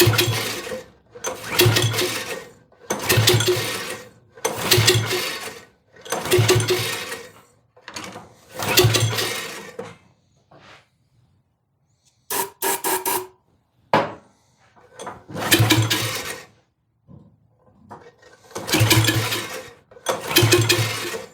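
Tiller engine being pull-started, a series of about a dozen sharp recoil pulls in a steady rhythm, each a short loud rasp, with a pause midway before the pulls resume.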